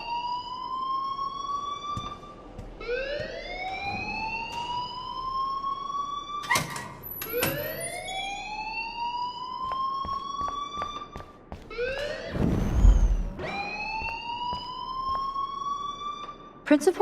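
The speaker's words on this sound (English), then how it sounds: "please turn off that alarm since that's your job" A school fire alarm in the video game Life is Strange wails in repeated rising sweeps, loud and steady, broken by a few sharp clicks and a brief low thump near the end.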